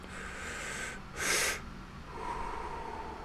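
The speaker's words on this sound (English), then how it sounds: "the breathing in with a little gasp at the top and then long breath out" A person demonstrates a breathing technique with a sharp nasal sniff in, followed by a long, softer exhale, close and alone against light room hiss.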